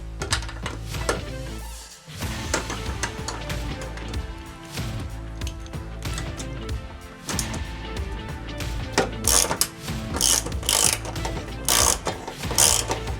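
A hand ratchet tightens a bolt while a Weather Guard shelf is installed in a RAM ProMaster City van, giving close runs of rapid metallic clicks that grow sharper toward the end.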